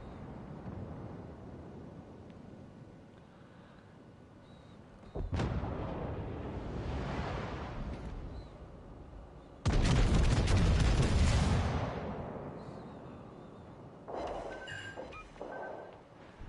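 Torpedo impacts on a warship in a naval combat game land as heavy booming blasts. One deep explosion hits near the middle and smaller bursts and rumbles come before and after it, loud against a quieter ambient background.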